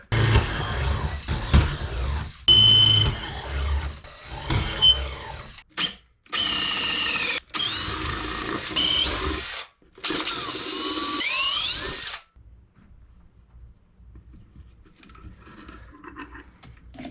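Power drill driving bolts into a wooden boat during restoration: several loud whirring bursts that rise and bog down as each bolt seats, separated by short pauses, then quiet.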